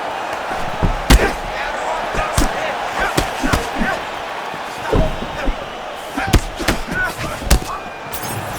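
Heavy punches land in a UFC 6 video game bout: sharp, loud slaps and thuds strike at irregular intervals over a steady arena crowd bed, with commentators talking throughout.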